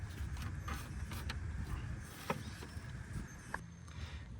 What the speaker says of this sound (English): We're going to put the ratchet in reverse, and then we'll be able to push the ratchet down this way, and that's going to release tension.